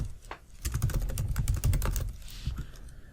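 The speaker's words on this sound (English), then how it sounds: "type in their email" Fingers typing on a computer keyboard while entering a user's email address, a quick run of close, crisp key clicks in a steady flurry, with no voice heard.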